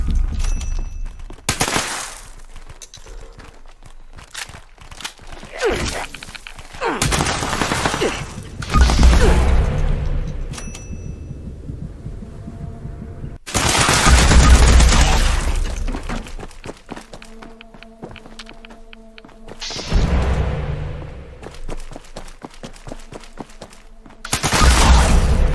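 Explosive Fixer rifle fire in Fallout 76 cracks in loud, sharp shots with booming blasts and debris, coming in irregular clusters with short lulls between.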